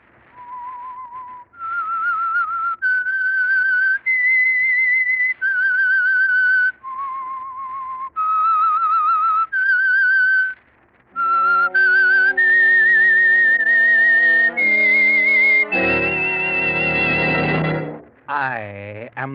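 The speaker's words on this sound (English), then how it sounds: "That whistle is your signal for the signal oil program" A solo whistled theme tune of sustained, clear notes stepping up and down, opening the radio mystery The Whistler, joined later by orchestral music that swells into a sweeping flourish.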